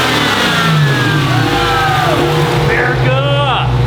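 A 1970 Dodge Challenger with a 392 SRT engine revs loudly, its pitch rising and falling through several throttle blips, with a deep rumbling intake roar and a voice faintly underneath.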